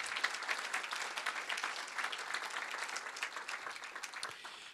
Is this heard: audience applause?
yes